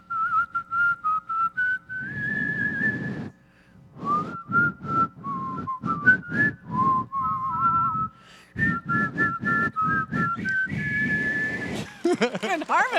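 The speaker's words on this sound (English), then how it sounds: "can you guys whistle to Les Miserables?" Someone whistles a slow melodic tune from Les Misérables in clear sustained notes, phrase after phrase, with breathy pauses and some rustling underneath.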